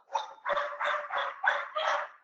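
A dog barks indoors during an online discussion, a rapid run of about six close, loud, evenly spaced barks with no talk over them.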